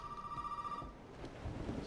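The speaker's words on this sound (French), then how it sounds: "Ah bah Vlachi marche maintenant le téléphone." A telephone rings inside the Resident Evil 7 video game, a steady electronic trill holding for about a second before cutting off, followed by low rumbling ambience like distant thunder and rain.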